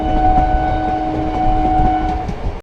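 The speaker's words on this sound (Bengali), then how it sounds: "কাশিমবাজার রেল স্টেশনের 2 নম্বর প্ল্যাটফর্ম থেকে ট্রেন বেরিয়ে বহরমপুর কোটের পথে" Azimganj MEMU train pulling out of platform 2 at Cossimbazar station toward Berhampore Court, a loud, steady close rumble of wheels and carriages with a sustained horn tone throughout.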